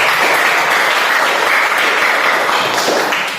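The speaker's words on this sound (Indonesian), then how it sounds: "Tepuk tangan untuk kita semua." Students in a classroom applaud together in a loud, dense, continuous clatter of hand claps that holds evenly for a few seconds and then tapers slightly at the end.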